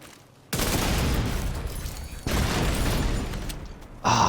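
Grenade blasts in a PvP shooter game: loud booming explosions land in quick succession, three heavy bursts with rumbling tails, close and dominant with no talk.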